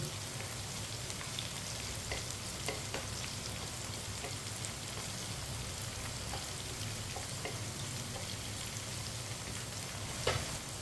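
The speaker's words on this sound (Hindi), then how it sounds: "सब्ज़ मिर्च को 1 मिनट के लिए जैसे हम थोड़ा सा पका लेंगे" Finely chopped green chillies frying with potatoes and okra in hot oil, a steady close sizzle with light crackles and occasional stirring scrapes, continuous and even throughout.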